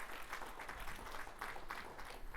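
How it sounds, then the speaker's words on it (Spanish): Worshippers at a church service applaud the Lord, a brief, soft, even patter of many hands clapping at a distance, alone without speech. "Vamos a darle un aplauso al Señor."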